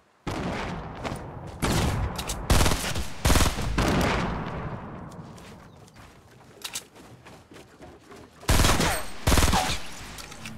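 Bursts of gunfire crack out in irregular volleys near dunes during a firefight, loud sharp shots clustered in several groups with quieter gaps between them and a final heavy burst near the end.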